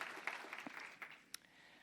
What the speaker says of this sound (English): I wonder if we could just give a round of applause to the Aviva people